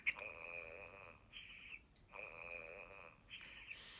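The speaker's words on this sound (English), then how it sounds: "And Wise Old Owl was snoring." Cartoonish snoring of an old owl, a storybook sound effect: two long, rasping inhaled snores separated by a brief pause, moderately loud and alone without speech.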